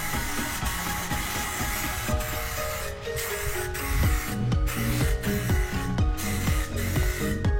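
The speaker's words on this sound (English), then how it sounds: "make sure you're spraying 8 to 12 inches from the surface" Aerosol spray paint hisses in steady bursts as heavy coats go onto wheel rims during a colour change, loud and close, with a few knocks and handling clatters in the background.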